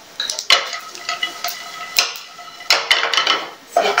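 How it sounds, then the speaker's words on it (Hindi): Makhana being stirred in a pan with tomato powder and ginger-garlic powder, giving repeated scraping clinks of a spoon against metal in uneven bursts, fairly close and moderately loud. "अच्छी तरह चलाते जाएंगे"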